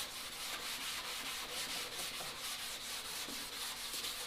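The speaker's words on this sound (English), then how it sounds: "And right now I'm using like a 220 grit sandpaper." Block sanding automotive car body panels with 220 grit sandpaper, a continuous soft rhythmic rasping of repeated back-and-forth strokes, close and fairly quiet with no talk.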